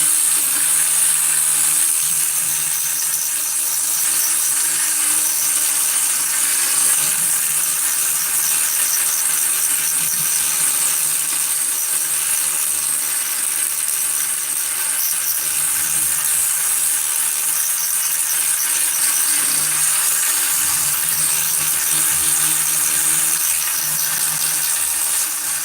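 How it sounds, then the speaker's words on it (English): A power tool spinning a 50 grit flap wheel grinds steadily inside the exhaust port of a Husqvarna 262XP chainsaw cylinder, a loud continuous high whine with slight load changes throughout and no talk. "take some 50 grit in here and wind it up, and you've got a flap wheel"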